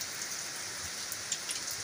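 Heavy rain pours down steadily in a dense, even hiss, close and unbroken, with a few brighter drop splashes standing out.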